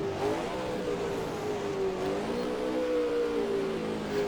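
A race car engine in the Assetto Corsa racing sim at the Reims circuit, a steady, close drone whose pitch sags and recovers slightly as the driver brakes and lifts, with no one talking.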